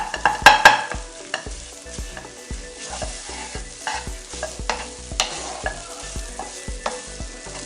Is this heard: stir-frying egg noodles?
yes